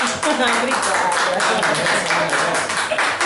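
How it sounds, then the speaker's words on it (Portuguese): Group clapping a round of applause at a civic reception in São Félix, Bahia, loud and close with overlapping voices and chatter. "Vamos bater uma salva de palmas."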